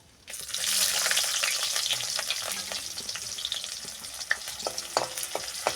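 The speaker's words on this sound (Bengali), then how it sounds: "পেঁয়াজটা লাল হওয়া পর্যন্ত ওয়েট করবো পেঁয়াজ ভাজা হয়ে গেছে" Onion hisses and sizzles in a hot pan over a tempering of clove and cumin, a steady close crackle with small pops and occasional stirring, with no voices.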